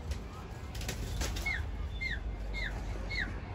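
A pigeon takes off with a brief flutter of wings, followed by a series of four short rising chirps or whistles over a low steady rumble of outdoor background noise.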